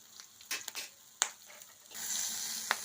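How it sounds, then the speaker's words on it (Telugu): Green chillies sizzling in a pan, with a few sharp crackles and stirring scrapes and then a steadier hiss of frying toward the end, close and fairly quiet with no voices. "పచ్చిమిరపకాయలు వేగిపోయాయండి."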